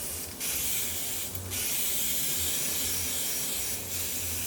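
An Iwata Revolution HP-CR3 airbrush sprays paint with a steady, close airy hiss, broken by a few short pauses and restarts.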